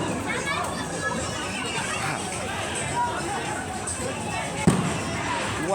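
A fireworks show at the beach, with a sharp boom rising out of the steady roar of a crowd chattering and milling about nearby.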